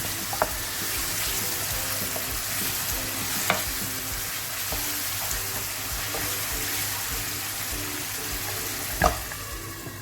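A spoon stirs pasta sauce with tomato puree and sausage in a hot pan. Steady sizzling runs under the stirring, with a few soft knocks against the pan.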